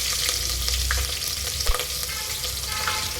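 Crushed garlic sizzles in hot oil as a tempering for a ripe mango gojju, a dense, continuous close frying crackle with stirring scrapes and no voices.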